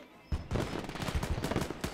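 Rapid bursts of heavy 20 mm autocannon fire crackle in quick succession, loud and sharp, in a World War II battle at Saint-Lô in the video game Gates of Hell.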